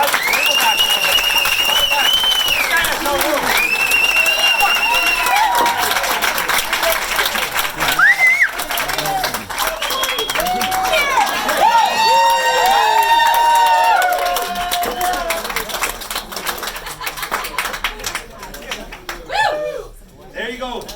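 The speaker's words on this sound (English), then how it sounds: "Got a round of applause for her" A comedy-show audience claps and cheers loudly for about twenty seconds, a dense sustained wash of applause with whoops, mixed with speech and fading toward the end.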